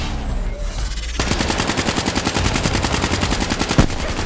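A turret in Call of Duty Black Ops 3 opens up with rapid, evenly spaced automatic gunfire, loud and close, in a sustained burst after a quieter opening, with no talk.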